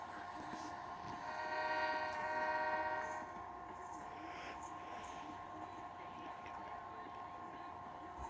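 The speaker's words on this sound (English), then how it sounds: "This train has to leave the station." A train passes with a sustained tonal horn or whistle that swells and fades over the first few seconds, then a steady distant rumble continues, faint overall, with talk in the background.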